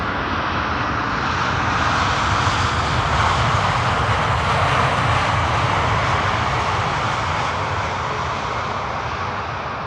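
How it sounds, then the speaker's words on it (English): A Transavia Airbus A321neo lands on the Polderbaan runway at Amsterdam Schiphol, its engines giving a steady, loud, broad roar that swells gently and then eases over about ten seconds, with no other sounds. "landing here on the runway, the Polderbaan runway, is the A321neo arriving from Albia, from Transavia"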